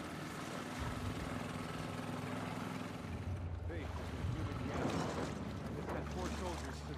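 Steady low boat engine drone from The Last of Us Part II, running continuously under game voices and soft water sounds.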